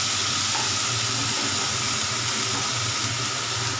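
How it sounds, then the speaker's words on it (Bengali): Onion paste dropped into hot oil with whole garam masala spices gives off a loud, steady, hissing sizzle that continues unbroken throughout. "ফোড়নগুলো একটু নেড়ে নিয়ে এর মধ্যে দিয়ে দিচ্ছি পেঁয়াজ বাটা"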